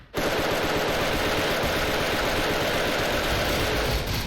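Rapid automatic fire from the EVL Galil rifle in a Special Force shooter game, a loud, unbroken burst of tightly spaced shots starting abruptly and running nearly the whole time.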